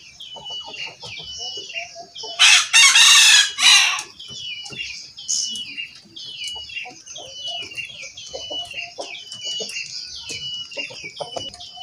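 A Pelung rooster crows loudly and at length, a drawn-out call standing out over a busy background of chirping birds and other fowl.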